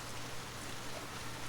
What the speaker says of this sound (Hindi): बाहर इतनी खूबसूरत और झमाझम बारिश हो रही है।